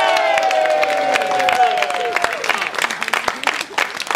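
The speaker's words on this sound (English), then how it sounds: "a round of applause to the stars of the show" Audience applause and cheering for the stars of a World Showcase Players comedy show, dense clapping from a crowd with voices ringing over it at first, continuing steadily to the end.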